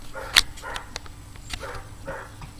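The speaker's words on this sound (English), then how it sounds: "God, that stupid dog won't shut up." A dog barks repeatedly nearby, a series of sharp, separate barks spread over a couple of seconds.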